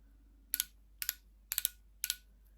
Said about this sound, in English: Twist it round till the product comes out.